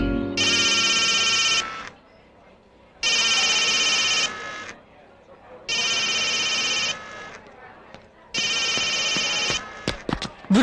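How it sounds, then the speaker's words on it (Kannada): A telephone rings in four long electronic bursts separated by short pauses, loud and close, with a few brief clicks and rustles at the end. "ಗುರುಜಿ, ಫೋನ್ ರಿಂಗ್ ಆಗ್ತಾ ಇದೆ"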